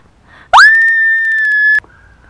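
A cartoon child in an animated Barbie camping episode lets out a single loud, sustained, piercing scream lasting just over a second, alone and close.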